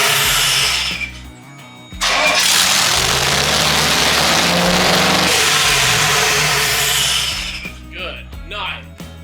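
Loud, close rumble of a V8-swapped Mazda Miata that drops out briefly, then roars steadily before winding down as the fuel pump is cut, with voices over the end.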